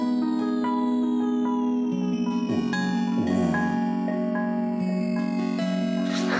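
An electric guitar played through a delay pedal sends out sustained notes that repeat and smear into shimmering echoes, with a low descending warble in the middle, loud and continuous without speech.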